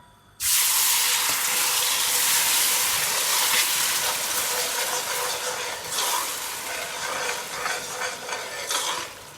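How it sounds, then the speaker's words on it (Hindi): Water pours into sugar in a cooking pot to make syrup, producing a loud, sustained hissing splash that begins suddenly and then eases into uneven sizzling and bubbling, with no talk. "1/2 कप मैं इसमें पानी डाल दूँगी।"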